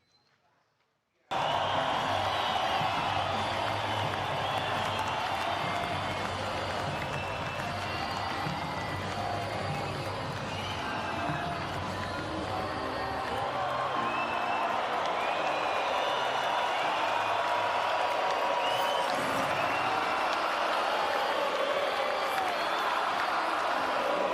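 A large arena crowd in Rio roars with sustained ovation and cheering for a retiring fighter, a dense, loud wall of voices and applause holding steady for over twenty seconds after a brief quiet start.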